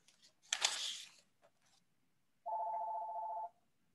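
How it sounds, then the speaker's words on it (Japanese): A telephone rings once in a room during an online academic meeting, a steady electronic tone lasting about a second after some brief rustling and handling noises, no speech. "電話鳴ってるかもしれないです"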